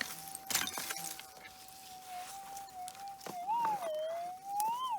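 A metal detector sounds a sustained electronic tone that holds steady, then rises and warbles as the coil sweeps, with scattered clinks and rustles of digging around it outdoors on old gold mine ground.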